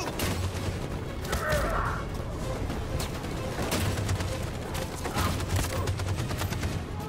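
Sustained bursts of machine gun fire and scattered gunshots in a Detroit Become Human battle, loud and continuous over about seven seconds, with booms and a voice faintly in the mix.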